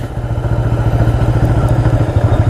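A 1985 Yamaha Virago motorcycle rumbles steadily while riding near East Hampton, NY, its loud, close engine pulsing evenly at a low pitch with a faint clatter running underneath and no talking.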